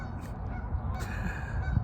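Geese honking as they fly over a duck pond, loud and near, several calls overlapping in an uneven string above a steady outdoor rumble, with no talk.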